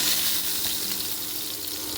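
A flipped tomato fries in hot oil for a cauliflower bhorta, producing a continuous close, hissing sizzle that stays even and fairly loud throughout.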